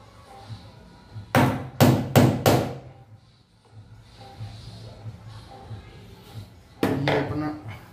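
Hammer striking a hard car pillar on a Bolero while fitting an FM antenna, a quick burst of four sharp knocks then one more later, with faint talk in between.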